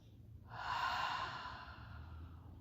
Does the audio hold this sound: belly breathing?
yes